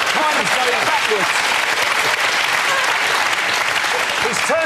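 Studio audience applauding on a television panel show, a dense, loud burst of clapping that fills the whole moment, with a voice faintly audible beneath it.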